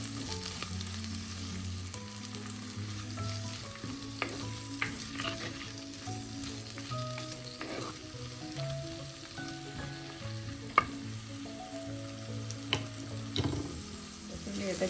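Small shallots sizzle steadily in hot oil in a pan while being stirred, with scraping spoon knocks and occasional sharp clinks over a constant frying hiss, cooked as the base for a spicy sole fish curry.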